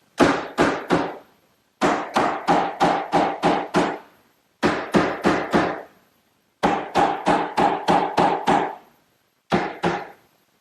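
Wooden horizontal members of a chair table being hammered in dry at the dovetails, loud and close: quick bursts of three to seven sharp blows, separated by short pauses, with no talk.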